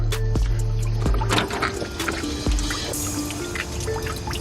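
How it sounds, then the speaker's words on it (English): Dirty green coolant drains from a 1998 Jeep Cherokee XJ, falling in a few distinct drips and splashes followed by a thinner trickle, close and fairly loud with no voices. "So I'm gonna let all the rest of that drip out."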